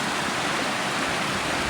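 Rain-swollen Utavali river water in Botad rushing steadily, a dense continuous roar of flowing water, loud and close, with no voices.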